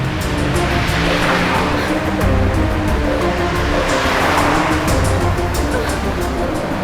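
A car on the road being waved down amid steady traffic and surf-like road rumble that runs throughout, loud and continuous, with faint voices underneath.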